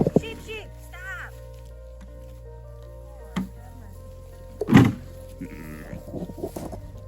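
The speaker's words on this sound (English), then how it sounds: "Sheep, sheep, stop!" Sheep on a farm bleating a few times, short wavering calls spaced apart over a quiet background, with people talking nearby.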